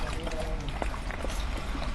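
Dirty tap water runs from a household faucet in a steady, continuous trickling pour, close and fairly loud for the whole brief moment.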